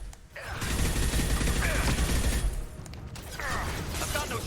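Sustained automatic gunfire with flaming incendiary rounds in the Mass Effect 2 game, a dense rattling barrage running almost nonstop at close range, broken by one brief pause, with a few game sounds layered on top.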